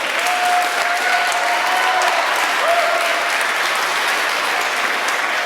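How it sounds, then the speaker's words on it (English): An audience claps for panelists at an early-college education event, a loud, continuous round of applause that stays even from start to end with no one speaking over it. "giving a very well-deserved round of applause for our panelists"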